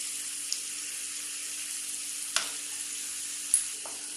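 Turmeric and spices frying in a pan for tulsi fried rice give a steady, moderately quiet sizzle throughout, with a few brief clinks or stirring taps, no talk.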